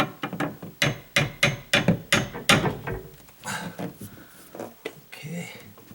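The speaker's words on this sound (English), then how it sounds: "Just gonna tap on it a little." Someone taps a plastic drywall anchor into a wall with a hammer: about ten quick, sharp knocks, followed by softer handling sounds and nearby talk.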